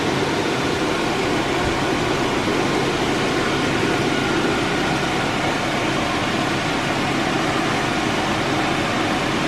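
Steady electric fan running close by to cool a Giandel 1200W power inverter, a constant broadband whoosh of moving air that holds evenly throughout with no voices.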